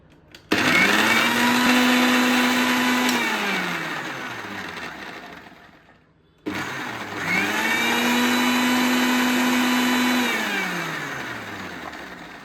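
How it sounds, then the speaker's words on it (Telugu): A mixer grinder whirs loudly in two long bursts separated by a brief pause, motor pitch rising and falling as it coarsely grinds chunky jamun fruit. "ఇప్పుడు ఇవి మిక్సీ పట్టుకుందాం మరీ ఫైన్గా కాకుండా కొంచెం కచ్చాపచ్చాగా కొట్టుకొని తీసుకుందాం"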